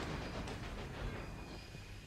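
A train runs on rails in the railway management game Railway Empire, a faint, steady rumble with soft rhythmic clatter and a thin whine, distant and quiet.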